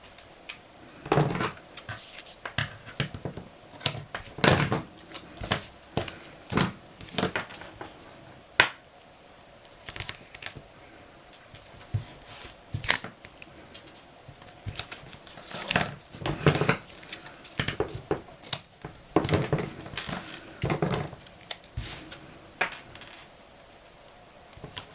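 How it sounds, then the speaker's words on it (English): Tape is pulled and pressed around a photo album in close, sharp crackles and ripping bursts, scattered irregularly over a quiet background. "So I'll just put some tape around here"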